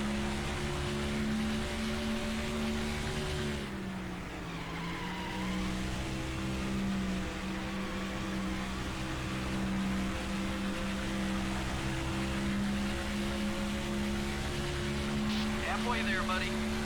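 Race car engine in NASCAR Thunder 2004 holding a high, steady whine near redline along the straightaways, pitch dipping briefly then climbing again, loud and continuous with no talk.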